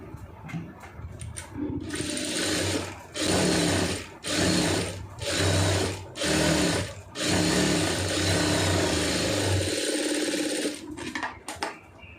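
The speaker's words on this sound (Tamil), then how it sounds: "ரெண்டு தையல் போட்டுருங்க இதில் வந்து" A sewing machine stitches a blouse sleeve in loud close bursts, several short runs followed by a longer continuous stretch, then stopping, with no talking.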